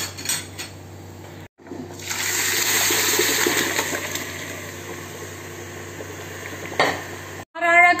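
Spiced masala liquid poured into a pot of cooked mutton for Pernambut-style mutton biryani, a steady splashing pour with sizzling that runs for several seconds, ending with a brief clatter.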